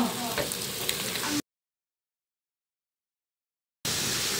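Bitter gourd fries in oil with onion, green chili and torn dried chili, a steady close sizzle with a few light stirring clicks, broken by a long stretch of silence before the frying resumes.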